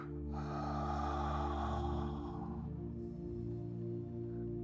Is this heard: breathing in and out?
yes